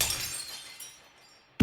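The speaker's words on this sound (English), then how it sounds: "I dropped the plate I was holding, and it shattered in the sink like a gunshot" A plate dropped into a sink shatters in one sharp, bright crash, followed by the fading tinkle of broken pieces and a faint tail.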